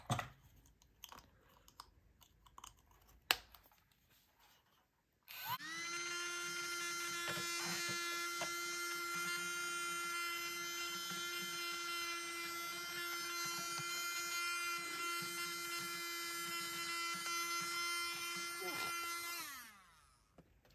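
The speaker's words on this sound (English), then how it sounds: "I'm gonna use this little vacuum cleaner." A few soft clicks and handling noises, then a tiny handheld vacuum cleaner, used to clean a Brother sewing machine, whirs on with a steady high-pitched hum for about fifteen seconds before winding down.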